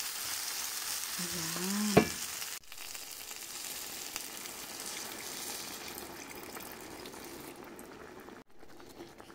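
Water poured into a pan of bitter gourd with eggs, with a steady close sizzle and bubbling, a brief splash and scrape, then continuing hiss as it simmers; a voice speaks briefly.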